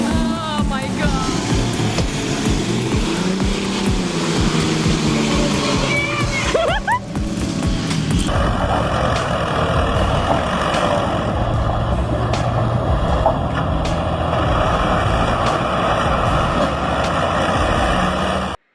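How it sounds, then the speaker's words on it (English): A Valtra tractor straining to pull a stuck cattle truck, with a steady loud engine drone, sloshing and splashing through the whole stretch and a sharp change in the noise partway through, voices faintly under it. "A Valtra tractor valiantly tries to rescue a daft cattle truck, but things go south, fast."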